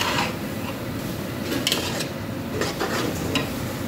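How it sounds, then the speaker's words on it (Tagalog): Spices and bay leaves sautéing in hot cooking oil for a stew, a dense continuous sizzle close up with occasional stirring scrapes and light pan clinks, no voices. "Gisa-gisa muna sa mantika."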